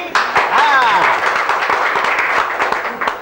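A burst of clapping from a small group, brisk and uneven, with a voice speaking over it.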